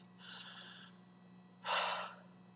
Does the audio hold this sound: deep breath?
yes